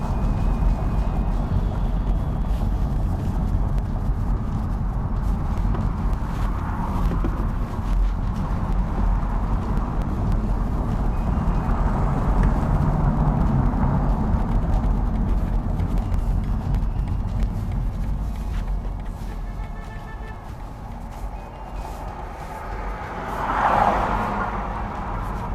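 A 2022 BMW 420d M Sport Gran Coupe, a brand-new rear-wheel-drive diesel, accelerating gently on light throttle, heard from inside as a steady low engine drone and road rumble throughout, with a brief louder swell near the end.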